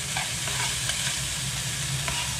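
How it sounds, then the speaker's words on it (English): Bacon sizzles and crackles steadily in a hot pan at an outdoor camp, a continuous close hiss with small pops throughout. "frying off a bit of bacon"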